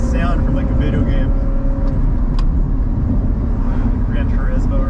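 Car engine cruising along Elfin Forest Road with a smooth, non-droning hum: steady engine and road noise fills the cabin, with people talking over it at moments.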